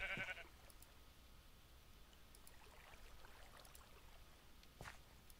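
A sheep in a video game gives one short bleat right at the start, followed by quiet background ambience with faint scattered clicks.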